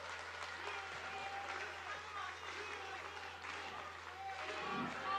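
A party convention audience applauding a newly elected party leader after his acceptance speech: steady, dense clapping from a large crowd heard at a distance and fairly faint, with murmured voices mixed in.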